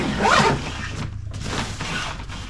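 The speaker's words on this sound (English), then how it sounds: "Closing it up, you get these little kind of cordage slash zipper closures." A zipper on a backpack is pulled quickly along its track, close by, in a short burst of rasping noise with a brief pause partway through.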